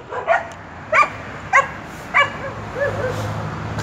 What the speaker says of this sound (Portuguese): Os cachorrinhos aí fazem uma festa